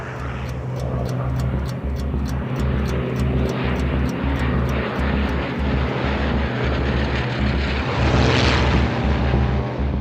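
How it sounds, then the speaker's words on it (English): Droning piston engines of WWII Luftwaffe aircraft passing overhead in a steady pulsing roar, loud and continuous, with a brighter whoosh near the end. "observers spot the first wave of Luftwaffe aircraft heading across the channel"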